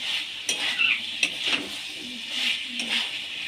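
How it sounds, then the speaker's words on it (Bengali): Fried potatoes are stir-fried in a pan for Bengali aloo posto. A spoon scrapes and clinks against the pan in irregular strokes over a soft steady sizzle, with no talking. "এবার আমি ভেজে রাখা আলুগুলো দিয়ে দেবো এবার আরেকটু কষিয়ে নেব"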